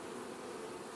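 Honey bees buzzing around their new hive during orientation flights, a dense continuous hum close by with no voices.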